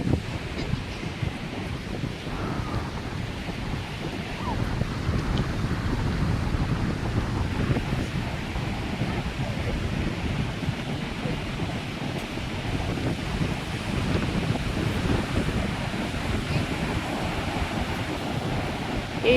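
Ocean surf and gusting wind at Tunnel Beach in Dunedin, New Zealand, on a rainy, windy summer day: a steady, low rumbling wash with wind buffeting the microphone, swelling a little after the first few seconds.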